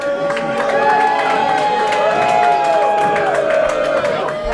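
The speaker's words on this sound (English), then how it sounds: "this crowd is just booing the Man-Dime here" Crowd at an independent wrestling show roaring and jeering loudly and continuously, a dense wash of voices and whistles with a commentator talking over it.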